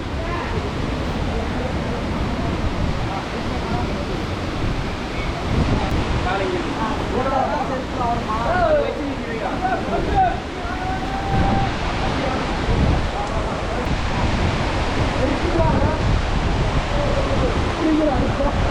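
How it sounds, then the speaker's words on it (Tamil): A steady roar of the Aagaya Gangai waterfall on Kolli Hills fills the air, with voices talking faintly over the continuous rushing noise. "ஆகாய கங்கை நீர்வீழ்ச்சி"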